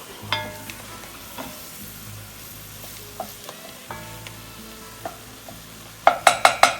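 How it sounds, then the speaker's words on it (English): Gumbo with tomato paste is stirred slowly in a pot, with scattered scrapes and taps of the utensil over a faint sizzle, ending in a quick run of sharp metallic knocks. "And then we're gonna slowly stir this for a minute or so."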